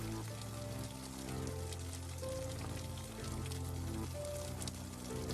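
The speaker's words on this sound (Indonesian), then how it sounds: "Kenikmatan malam di bawah guyuran air hujan di luar rumah" Steady rain pours down outside a house at night, a dense continuous hiss with soft patter that holds level throughout, mixed under low sustained musical tones.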